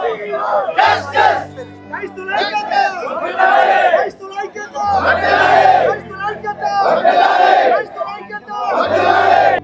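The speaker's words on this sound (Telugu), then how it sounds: "న్యాయం జరగాలని చెప్పేసి నినాదాలు పలుకుతూ అక్కడ నిరసనలు తెలియజేశారనమాట" Protesters gathered outside a hospital in Rajahmundry chant in loud, close unison, rhythmic shouted slogans repeated in waves with brief pauses, backed by a low droning tone and crowd chatter between the calls.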